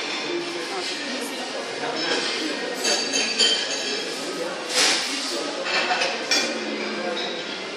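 Plates, dishes and cutlery clink at a hotel breakfast buffet in the Royal Grand Sharm, scattered sharp chinks over a busy room murmur with people talking nearby.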